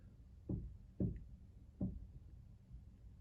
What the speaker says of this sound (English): We're tapping on the walls.